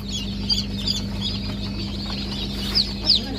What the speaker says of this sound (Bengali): এই দেখুন এখানে ভালোই করকনাথ আছে। এক্ষুনি হ্যাচ হয়েছে এগুলো